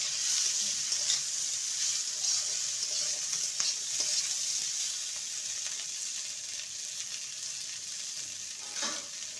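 Cubed onion frying in a pan for a bitter gourd and pumpkin dish, a steady, close sizzle with occasional scrapes and knocks from stirring, easing slightly in loudness over time.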